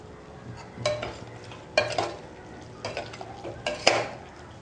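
Intermittent clinks and scrapes of a spoon stirring masala for mutton korma in a pot, a few sharper knocks spaced about a second apart, over a low steady hum.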